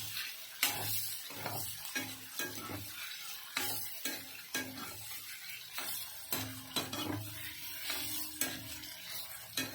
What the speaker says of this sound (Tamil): லேசாக வறுத்தா போதும்.